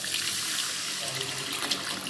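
Soaked tamarind water poured into a pan of curry with onions, a soft continuous splashing trickle heard up close and fairly quiet throughout.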